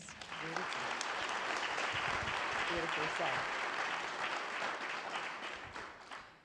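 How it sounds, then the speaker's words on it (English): An audience applauds steadily and loudly at a summit conversation for several seconds, a dense wash of clapping, while a voice speaks briefly over it. "Can we please give her a round of applause?"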